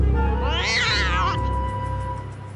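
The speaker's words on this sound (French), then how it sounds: "c'est un chat" Cat giving one long, drawn-out meow that rises and wavers, close and clear over a low background hum that persists after the call ends.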